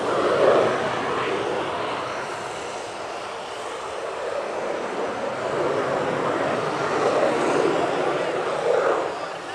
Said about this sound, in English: It's a little jet, but it packs a lot of punch, as you can see. A slow pass there into a 360-degree turn.